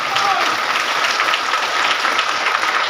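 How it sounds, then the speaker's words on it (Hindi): Audience applause at a DXN health awareness programme in a hall, a dense, steady wash of many hands clapping, loud and close, sustained throughout without a break. "उनके लिए ताली हो जाए"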